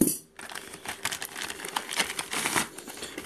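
Scissors snip and crunch through a parcel's wrapping up close, a rapid series of sharp cutting and crinkling sounds following a brief quiet start, with no voices.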